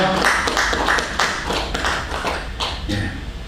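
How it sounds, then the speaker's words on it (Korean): A church congregation applauds steadily for a few seconds during a service, many hands clapping at once, fairly loud, with faint murmuring mixed in. "삼위일체 하나님께 감사의 박수 올립니다."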